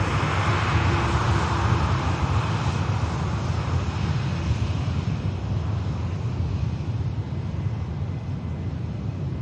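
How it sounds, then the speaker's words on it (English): Airbus A380 airliner taxiing out at Manchester Airport, a continuous broad jet engine roar mixed with wind buffeting on the microphone, steady and fairly loud throughout with no talking. "here's a beautiful 380 on the taxi out"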